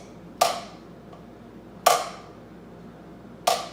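Three short drum buzz strokes on a snare, played with the stick gripped too tightly, each a sharp crack with only a brief rattle of bounces, evenly spaced about a second and a half apart in a quiet room.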